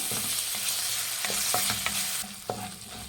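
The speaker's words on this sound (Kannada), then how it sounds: "ಇದು ಹಸಿ ವಾಸನೆ ಹೋಗೋವರೆಗೂ ಮೀಡಿಯಮ್ ಫ್ಲೇಮಲ್ಲಿ ಇಟ್ಟು ಫ್ರೈ ಮಾಡಿ." Ginger garlic paste fries with onions over a medium flame for spicy chicken liver fry, a constant sizzle punctuated by several sharp knocks and scrapes of a spoon stirring in the pan.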